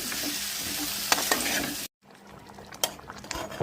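Fish pieces sautéing in a spice paste in a pan give a steady close sizzle with scraping stirs, a brief cut to silence midway, then quieter frying with occasional utensil clinks.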